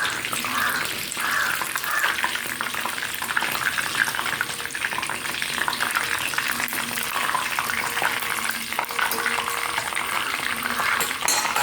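Chicken lollipops deep frying in hot oil, a steady dense crackling sizzle that continues without break, loud and close, with no voices.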